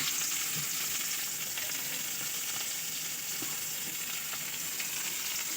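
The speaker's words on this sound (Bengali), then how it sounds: "প্রথমে দিয়ে দিলাম এর মধ্যে পেঁয়াজ।" Onions fry in mustard oil in a wok for a fish curry with potato and cauliflower, giving a steady close hiss of sizzling with faint stirring scrapes and no talk.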